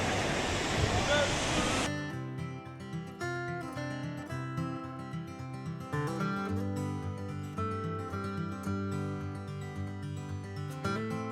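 Rushing water at the River Swale falls roars as a dense broadband wash for about two seconds before music takes over.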